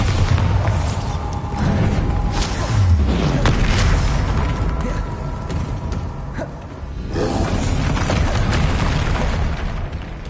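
Bombarda blasting spell detonating in Hogwarts Legacy, a loud booming explosion with heavy low rumble that keeps roaring, with repeated blasts across the clip and a brief dip before the next burst.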